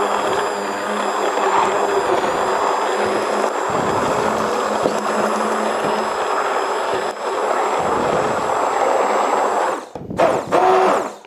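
A blender motor grinds strawberries and bananas into juice, a steady loud whirring whine that runs continuously before cutting out briefly and restarting near the end.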